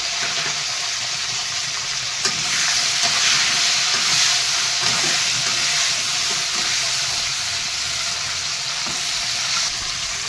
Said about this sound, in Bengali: এবারে আমি এই ঝোলের ফুলকপিগুলো আমি একটু ভেজে নেব তেলের উপরে।